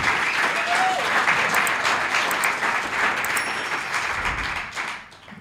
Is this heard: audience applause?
yes